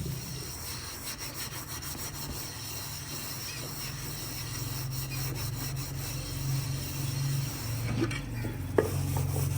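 Turmeric, chili, black pepper and garam masala are roasted in a pan, stirred with scraping, rubbing strokes over a low sizzle that runs continuously nearby.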